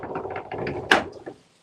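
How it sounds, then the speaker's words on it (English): A door in Costa Rica is opened: a short run of mechanical rattling and latch clicks, close by, ending in one sharp clack, then quiet. "let me see if I can open this door and see it."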